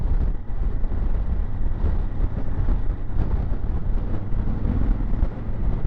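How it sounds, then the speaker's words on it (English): Strong wind buffets the microphone while riding a Honda Africa Twin motorcycle across an open moor, a loud continuous roar of gusting air with engine rumble underneath and no speech. "The wind up here is fucking outrageous."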